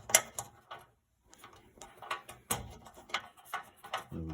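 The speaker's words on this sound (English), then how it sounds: "Just screw that in." A mounting screw is driven into a DJ table panel, with close, irregular clicking and ratcheting taps, a short pause near the one-second mark, then more scraping clicks and knocks, no voices.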